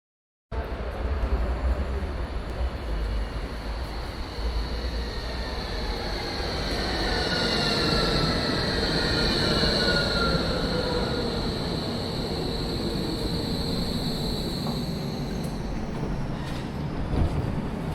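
A tram rolls through central Berlin with a continuous close rumble of wheels on rails, joined by a thin high metallic whine that rises and drifts across the run.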